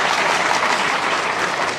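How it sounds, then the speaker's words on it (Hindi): Audience applause for a judge at a speech event, steady dense clapping filling the whole stretch at a loud, even level. "ताली बजाइए मानी जज साहब के लिए"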